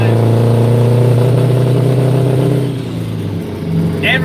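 A truck engine rumbles loud and close, its revving deep and steady before easing off, with a voice briefly talking over it.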